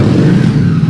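A motorcycle engine runs loud and close with a steady mid-low drone, part of a small convoy of riders heading toward horses and mules.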